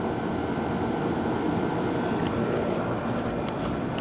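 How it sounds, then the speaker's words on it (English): Trane XB10 central air conditioner running outdoors, with a quiet compressor under a loud fan that makes a steady, continuous whooshing roar, heard close and unchanging throughout. "And the compressor's quiet, but the fan's loud, as you can hear"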